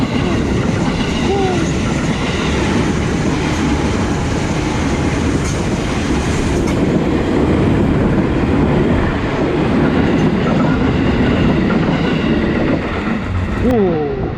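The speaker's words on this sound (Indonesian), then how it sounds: "Nah benar kan pemirsa, ada kereta tuh pemirsa. Masih aktif." An active train rumbles past close by on the Bintaro rail line, loud and continuous, with rhythmic wheel clatter and a few brief metallic squeals near the end.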